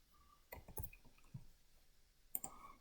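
Mouse clicks on a PC while editing resistor values in PSpice circuit software: a few sharp, close, quiet clicks, including quick double clicks, in near silence with no talking.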